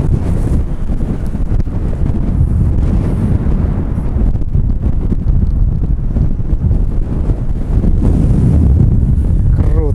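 Strong storm wind on the Crimean coast near Simeiz by Mount Koshka, a loud, constant low roar buffeting the microphone for the whole stretch with no pause.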